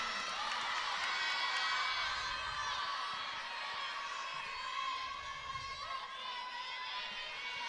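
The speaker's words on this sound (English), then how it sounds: "greeted with a loud cheer for the home crowd" A home crowd cheers loudly at a college acrobatics and tumbling national championship event final, a sustained roar of shouts and whoops filling the arena and easing slightly toward the end.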